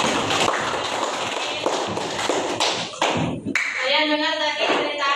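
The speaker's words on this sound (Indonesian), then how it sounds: "beri tepuk tangan dulu Mail" A school class claps together in a dense, continuous burst of applause, with a high squealing whine and wavering tones toward the end.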